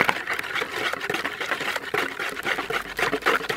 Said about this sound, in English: Now, I'm gonna whisk it up.